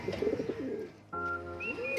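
A pigeon gives a soft, close cooing call, followed by a short sustained tonal note. No speech is heard.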